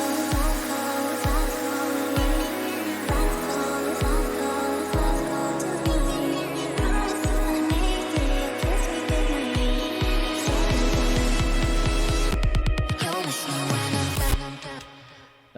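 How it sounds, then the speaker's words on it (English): A remix passage where a synth lead and stacked super saw synths swell in under sweeping filters over a pulsing, chopped bass pattern, dense and loud, breaking into a stuttering glitch near the end. "I'm also fading in the lead and the super saws here with filter sweeps again"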